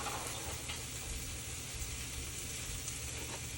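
Pork chops fry in a pan over medium heat, giving a continuous dense sizzle with small pops and crackles, close and even throughout, with no voices.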